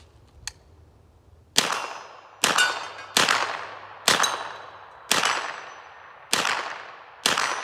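A Smith & Wesson M&P 15-22 pistol, built on the AR platform, fires seven sharp, loud shots at uneven intervals, each with a ringing, echoing decay, after one faint click.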